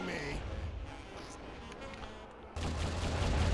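Bursts of gunfire from enemies firing downward in the Metal Wolf Chaos XD video game, rapid volleys that drop off mid-clip and resume louder near the end, with a voice talking over them.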